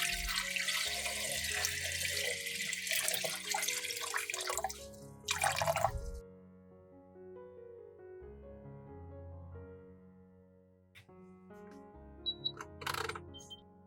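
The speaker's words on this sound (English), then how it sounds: "Then pour in water so that it is 2/3 full of the egg jar." Water runs and splashes from a tap into a pot holding a jar of eggs for several seconds, then stops, followed by faint clinks and a brief second splash; quiet overall.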